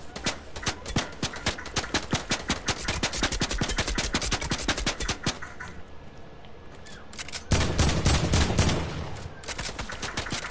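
Video game gunfire rattles in long rapid bursts, loud and close, with a short lull before heavier blasts resume near the end.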